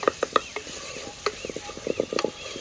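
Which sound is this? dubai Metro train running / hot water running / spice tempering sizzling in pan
spice tempering sizzling in pan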